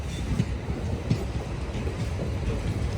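A special train bound for Kollam passes on the Renigunta to Katpadi route, a steady rumbling roll with faint clatter from the cars, continuous and fairly close, no voices.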